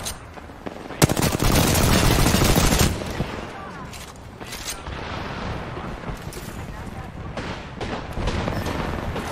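A Sheila minigun fires in the Apex Legends video game: a loud sustained burst early on, then scattered shots and explosions under excited voices talking.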